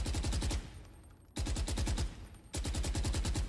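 Rapid automatic fire from a suppressed rifle in Valorant, three sustained bursts of evenly spaced muffled shots separated by brief pauses, close and loud with no talking.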